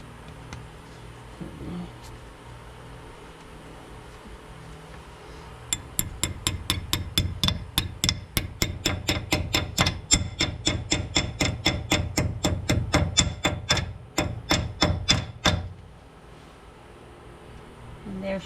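Metal parts at a 2011 Hyundai Santa Fe wheel hub tapped in a rapid run of sharp, evenly spaced metallic clicks that lasts about ten seconds, over a low hum, close and fairly loud.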